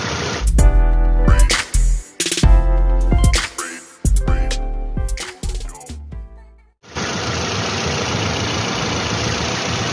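Engine of a 2010 Toyota Yaris/Vios running hot in a workshop, captured up close with heavy handling knocks, thumps and rattles at first, then a steady broadband idle roar for the last few seconds.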